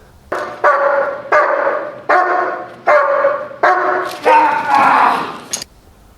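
A trained protection dog barks during a bark and hold: about eight loud, close, deep barks in a steady, insistent rhythm, with the last few running together.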